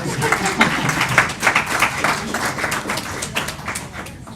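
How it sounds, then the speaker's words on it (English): An audience at a school board meeting claps together, a dense, steady patter of many hands lasting the whole stretch with no pauses. "So let's give them a big round of applause."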